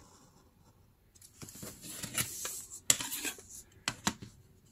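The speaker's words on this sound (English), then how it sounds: "So I'm gonna cut my both pieces off." Scissors snip through craft paper to cut out two Christmas tag pieces, a few sharp close clicks and crisp cuts after a quiet start.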